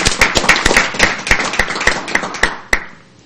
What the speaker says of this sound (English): will everybody please join me in applauding Mr.